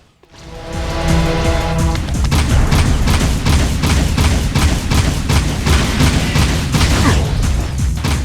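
Heavy gunfire in the video game Jak II: after a brief electronic tone, a dense, continuous barrage of rapid loud shots and booms rolls on without pause, close and overwhelming.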